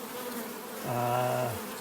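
Honey bees buzz at the small entrance of a nuc hive, a steady close drone that swells into a louder, tonal hum partway through before easing back.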